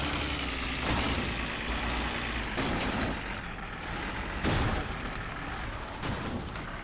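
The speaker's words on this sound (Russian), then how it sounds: "Звук мотора более меня" Car engine in the driving game My Summer Car, running steadily and loudly as the car is driven, with a constant low rumble and occasional louder surges, and no talking.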